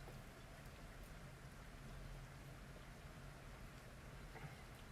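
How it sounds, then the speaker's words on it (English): Steady pouring rain falls outside, a dense, even hiss of drops on surfaces that holds constant throughout at a low, distant level with no voices. "it is pouring down rain"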